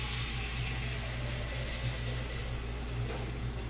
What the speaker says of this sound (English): Fill that with hot soapy water.